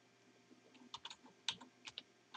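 Quiet typing on a computer keyboard while text is entered into a form field: irregular soft key clicks in small clusters, close and low in level, with no talking.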